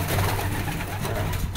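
Young racing pigeons coo close by in a loft, soft low murmuring calls layered over a steady background hiss, with no speech.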